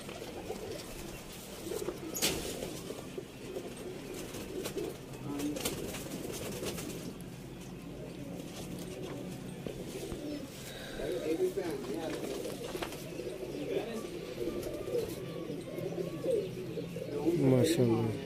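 Teddy pigeons cooing in a coop, soft repeated coos and occasional chirps close by, with someone talking over them almost throughout.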